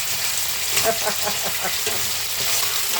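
A ladle clatters and scrapes against a pan while mixed bihon noodles sizzle and fry in steady hissing, with rhythmic stirring strikes running through the whole stretch.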